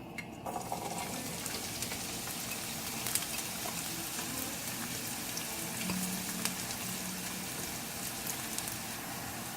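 Onions sizzle in hot oil with a continuous crackling hiss and scattered pops, fairly quiet and steady throughout.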